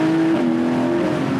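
Close and loud, a Porsche GTS 4.0 engine sings a steady, sustained note under acceleration, with no voices over it.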